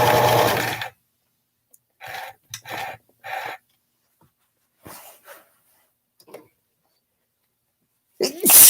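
A single loud sneeze bursts out at the very end, after a stretch of quiet broken by a few short, soft sounds.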